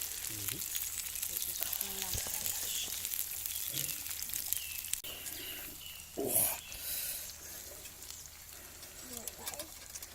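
Onions and garlic frying in a pan over a forest campfire, a soft steady sizzle with a brief louder burst of clatter partway through, under scattered speech and faint birdsong.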